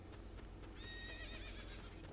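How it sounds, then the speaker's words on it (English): Horses whinny in the Zelda 64 Spaceworld '97 demo, a short wavering neigh rising over a hum of game ambience, with faint hoof-like clicks around it. "Multiple horses."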